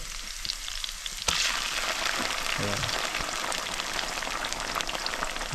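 Crab meat frying with garlic and curry leaves in a pan over a traditional wood-fired stove, a steady close, crackling sizzle that starts with a sharp jump in loudness and continues evenly with no talking.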